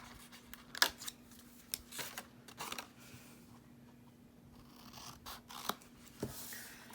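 Scissors snip corner tabs off small paper treat cups, a series of crisp close cuts at irregular intervals with soft paper rustling between them.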